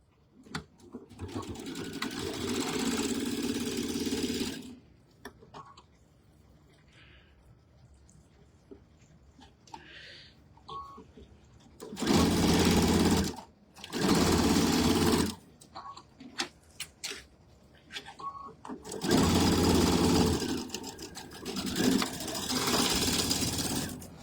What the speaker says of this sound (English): And then we're going to sew those two together.